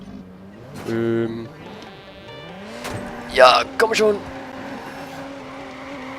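Engine of a car driving uphill in Watch Dogs, revving and surging under a man's excited speech, with a sharp horn-like blast and a couple of loud bursts midway.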